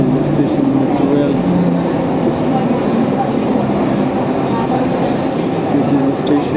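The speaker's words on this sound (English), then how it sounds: "Rail station, metro rail." A metro train at a rail station in Kuala Lumpur gives a continuous loud rumble and roar, steady from start to finish.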